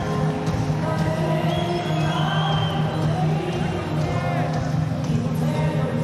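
A lively crowd cheers and applauds a fighter at a Karoo tatami fight night, a dense continuous roar with whistles and shouts throughout, while talk carries over the top.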